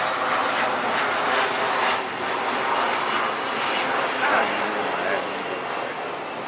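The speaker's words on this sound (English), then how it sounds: "we in Miami, we got a plane flying over us, so you heard a little something" A fixed-wing airplane passes overhead in Miami, a steady broad engine roar holding at constant loudness throughout, with faint voices beneath it.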